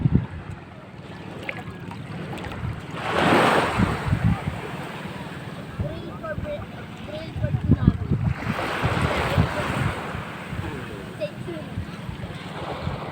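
Sea waves and wind on Little Beach, a cold seashore where motorized bancas are moored. Steady gusty wind buffets the microphone, and two broad surges of surf roll in and wash back across the clip.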